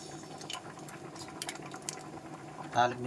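Chillies sizzle and crackle softly in hot oil in a pan while a person talks over the bubbling, with a brief louder spatter near the end.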